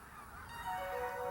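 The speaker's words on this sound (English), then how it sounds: "Last to arrive are the Canada geese." A Canada goose gives a couple of nasal honks, moderately close and fairly faint, over a soft background hush with no talking.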